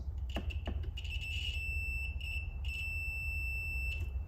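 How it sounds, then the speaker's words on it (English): A multimeter continuity tester sounds a steady electronic beep on a Saab 900 instrument cluster circuit, starting with a few short chirps and then holding continuously before cutting off, over a low background hum. "We should get a beep if I fix this."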